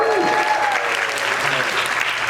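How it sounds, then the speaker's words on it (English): Applause and cheering from an audience at a university lecture, a dense wash of clapping filling the room throughout, with voices and a whistle-like call mixed in. "Let's cheer for her for that"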